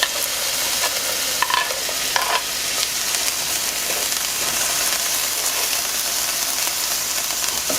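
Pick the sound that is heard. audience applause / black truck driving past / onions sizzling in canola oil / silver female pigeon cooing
onions sizzling in canola oil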